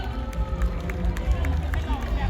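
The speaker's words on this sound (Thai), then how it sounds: "ขอเสียงปรบมือต้อนรับขบวนที่ 3 ด้วยครับ" Outdoor crowd greeting the third procession of a Thai folk dance parade, steady clapping and cheering under a low rumble, loud and continuous throughout.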